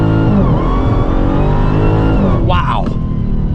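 A 1,025-horsepower Dodge Challenger accelerates hard, its loud engine roaring continuously up close, with a brief higher whine of rising revs partway through.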